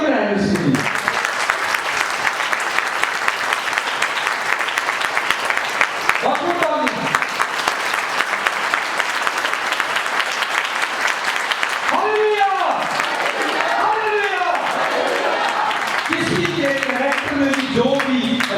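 A church congregation at a Sunday service applauds loudly and continuously for several seconds, and a voice then speaks over the fading claps.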